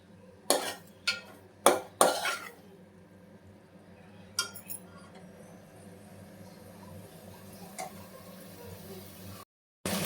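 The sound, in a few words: stirring drumstick pieces into curry in a pan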